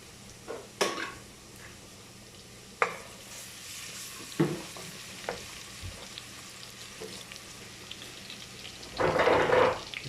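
Garlic frying in a pan for chicken biryani gives a soft sizzle broken by a few sharp utensil taps and a louder burst of crackling near the end, with no talking.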